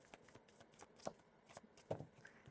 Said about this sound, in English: This is going to be the last shuffle for Leo.